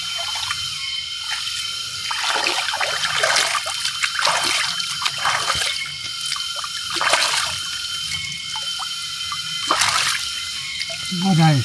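Someone splashes and scoops shallow, warm water while washing in a jungle cave in Taman Negara, with close, repeated trickles, drips and splatters at an irregular rhythm.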